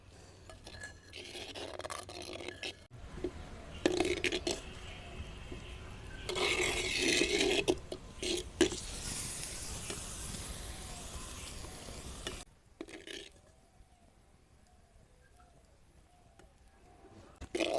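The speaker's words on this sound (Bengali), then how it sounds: "ঢাকাটা খুলে নেড়ে ছেড়ে দিলাম, আবার ঢাকা দিয়ে দেবো" A lid lifted from a cooking pot and amra chutney stirred inside, with soft scraping and bubbling, followed by a quieter stretch and a clink near the end.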